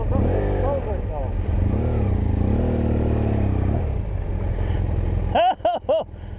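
BMW F800GS and HP2 motorcycles on an off-road trail, engines idling and revving unevenly up close, pitch rising and falling, ending with a few sharp throttle blips; a voice is heard among the engine noise.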